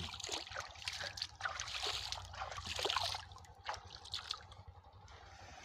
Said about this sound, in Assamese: চাওক এইটো হৈছে দুধনৈ নদীৰ পানী